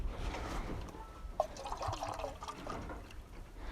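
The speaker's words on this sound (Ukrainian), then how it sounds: "зараз налємо води" Water is poured into a drinking container for farm rabbits kept in hutches, giving a steady trickling, splashing pour with small drips, close by and without speech.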